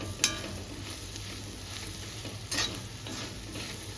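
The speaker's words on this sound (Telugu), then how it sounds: "అల్లం వెల్లుల్లి పేస్ట్ కూడా వేసుకుంటుండండి బాగా ఫ్రై చేసుకోవాలి మీడియం ఫ్లేమ్లో పెట్టుకొని" Ginger garlic paste fries in a pan over a medium flame with a steady, close sizzle, punctuated by two short stirring scrapes.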